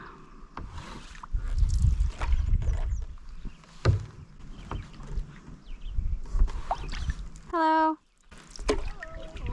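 A paddle dips and pulls through the water beside a canoe in rhythmic low swishes and gurgles, with a voice briefly speaking and a short tonal beep near the end.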